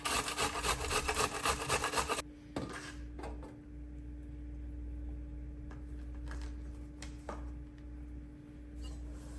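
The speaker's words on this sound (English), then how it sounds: "And I just usually use the box grater with the big side." Food, likely cheese, is scraped across the coarse side of a box grater in fast repeated strokes that fill the first two seconds, followed by a few scattered taps and light scrapes in a quiet kitchen.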